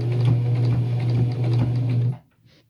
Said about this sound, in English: You have to roll up the side of it to get it to go into the sewing machine here.